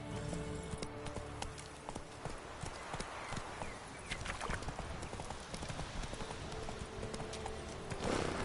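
Roach the horse galloping in The Witcher 3 video game, rapid rhythmic hoofbeats pounding steadily and close throughout, with a brief snort or whinny near the end.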